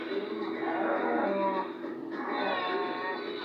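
A cow gives a long, close moo, then another follows after a brief dip, with no talking.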